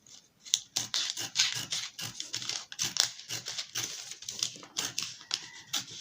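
Scissors snip through fabric laid over a dress pattern for a twist dress, a quick irregular run of crisp close cuts and crinkly rustles with short pauses between strokes, no talking.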